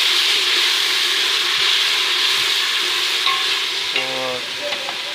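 Browning onions with pounded ginger-garlic paste frying in a pot for green matar pulao, a steady loud sizzle with stirring throughout and a few faint clinks toward the end.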